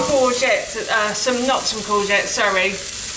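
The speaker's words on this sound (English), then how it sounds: "So my pan got very hot, and I've added my spring onions to the base of the pan" Spring onions frying in a very hot pan for Spicy Mexican rice, a bright continuous sizzle running beneath a person talking close by.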